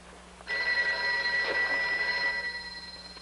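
A telephone bell rings in an older home interior, starting abruptly and holding a steady, bright, sustained tone that fades slightly toward the end.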